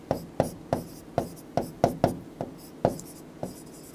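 Pen strokes tapping and scratching on a writing surface as a physics formula for torque on a magnetic dipole is written out, roughly a dozen quick close-up clicks in an uneven rhythm.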